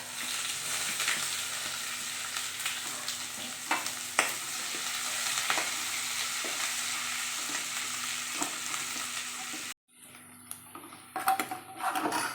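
Green chilies, ginger and curry leaves sizzle loudly in hot oil in a pan, a steady dense frying hiss with occasional stirring clicks, cutting out briefly near the end before resuming.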